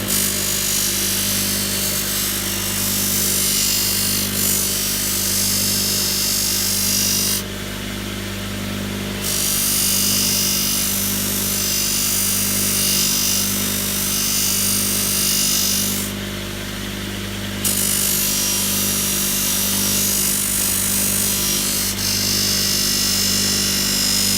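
A loud, continuous power grinder whine sharpening a steel knife blade, with a steady motor hum, briefly dipping twice as the blade is lifted away, no talking.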